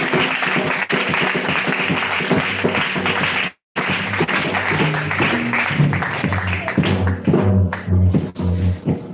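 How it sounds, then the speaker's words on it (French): A church congregation breaks into loud, sustained applause and rhythmic clapping, nearby and dense, with a brief cut partway through and voices mixed in. "On acclame le Seigneur."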